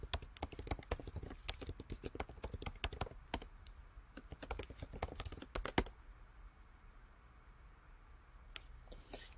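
Login credentials are typed on a computer keyboard in a quiet room, with fast, uneven key clicks for several seconds, a brief pause, then a few final taps.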